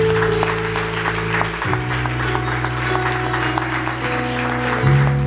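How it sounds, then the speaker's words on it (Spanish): A church congregation at a Sunday service applauds, steady crowd clapping under sustained organ or keyboard chords that shift partway through. "Denle un aplauso al Señor."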